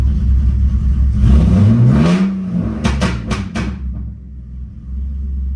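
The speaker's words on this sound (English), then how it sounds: "But now you can see RPM staying at a steady idle." A BMW E46 drift car's engine revs up with a rising whine, then falls back to a steady, rumbling idle, close and loud throughout.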